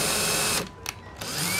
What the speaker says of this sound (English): Alright, so using the smaller bit, I'm going to be just drilling.